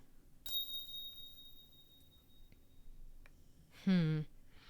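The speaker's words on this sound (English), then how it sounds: "As the bell sways in the wind, it makes a clear sound." Small metal bell with a faded crimson string ringing in a visual novel game: a clear high chime at the start with a long fading ring, then a second brighter, warbling ring near the end; quiet, no talk.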